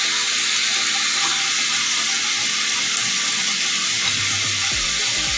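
Two onions hitting a hot pan for chicken stew give a steady, loud sizzle and hiss of frying that carries evenly throughout, with faint low clatter near the end.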